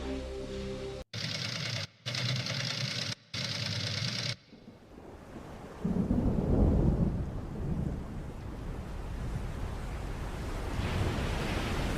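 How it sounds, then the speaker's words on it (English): A Force 10 storm in Alaska roars in with deep rumbling thunder and a broad rush of wind and rain. It follows a few seconds of steady electronic tones and then fades to a softer wash. "Within 2 hours of the meeting came the local community's worst nightmare, a Force 10 storm."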